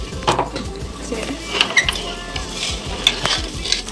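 Sweet pulao being stirred in a pot with a spoon, giving steady scraping and clinking strokes against the metal over a light sizzle of cooking rice, close and fairly loud with no voices.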